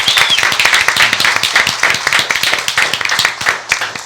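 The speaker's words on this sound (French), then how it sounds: "S'il vous plaît, applaudissements." Audience applause at a forum in Amiens, France, a dense continuous patter of many hands clapping close and loud for the full length, with faint voices underneath.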